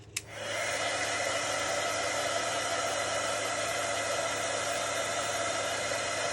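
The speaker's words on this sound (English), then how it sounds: "I'm going to bring the heat gun and I'm going to turn it on, and I'm not going to actually heat it on anything" A heat gun blows hot air steadily, switching on with a click and rising into a loud, constant broadband whoosh that holds unchanged throughout while it warms up during card making.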